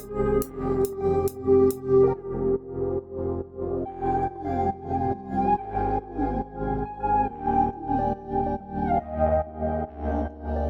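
A synth melody run through an S-Pulsar VST pulsing plugin, with its notes chopped into a steady rhythmic throb; a few bright plucked notes open it before the pulsing chords and bass continue alone.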